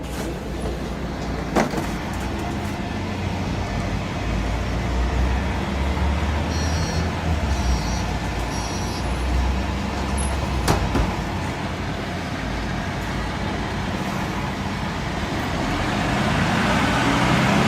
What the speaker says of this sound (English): So these are the newest solo buses that Ljubljana has.